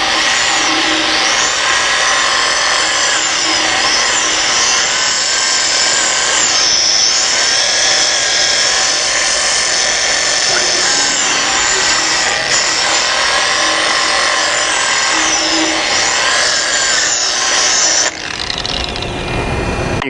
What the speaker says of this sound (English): if you're fortunate enough to have a tire machine, this works really well, and just let it rotate around